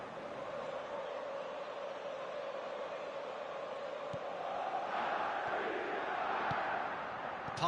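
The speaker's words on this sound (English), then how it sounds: "at least the crowd are appreciative of his efforts" Simulated stadium crowd in an eFootball PES 2021 Premier League match between Brighton and Arsenal, a broad distant roar of fans that swells appreciatively after a near miss, faint and continuous.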